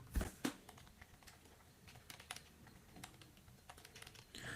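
Quick, uneven keystrokes on a computer keyboard as a prompt is typed, faint and close, with short bursts and pauses and no talk.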